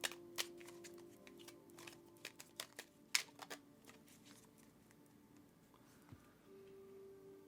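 Quiet tarot card shuffling: soft riffling clicks and taps in an irregular flurry, with a few sharper snaps, close by and otherwise calm.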